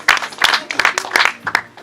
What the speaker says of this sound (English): Let us put our hands together as Daktari comes to take us up from there. Let's just clap. Please clap.